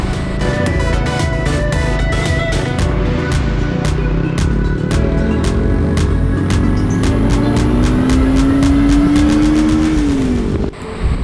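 Motorbikes ridden fast along a highway on a group ride, engines droning loud and steady close by, with a rising whine as one accelerates and a brief drop at the end.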